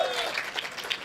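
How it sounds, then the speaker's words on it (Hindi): Audience applause at a Hindi comic poetry gathering, a short burst of scattered clapping at moderate level, with a few sharper individual claps standing out. "जोरदार तालियां बजा"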